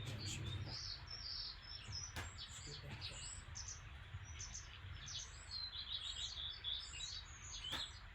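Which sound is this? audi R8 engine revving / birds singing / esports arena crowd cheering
birds singing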